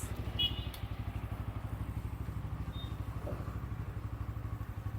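A motorcycle engine idles with a steady, even putter, close but fairly quiet, with a brief clatter near the start.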